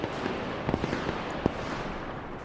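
Mortar shells burst in a military video game, a scattered series of sharp, distant cracks and pops, the strongest near the middle, over a low rumbling background.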